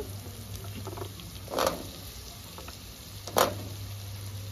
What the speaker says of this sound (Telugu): ఉల్లిగడ్డలతో పాటు మంచిగా ఫ్రై చేసుకోవాలి. మీడియం ఫ్లేమ్ మీద పెట్టుకొని బాగా ఫ్రై చేసుకోవాలి.